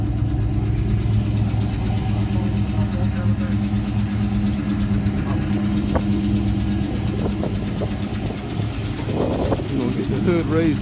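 A 1963 Mercury Comet's 289 V8 idles close by with the hood raised, a loud, steady rumble with a fast ticking pulse from an exhaust or header leak, and a voice talks briefly over it near the end.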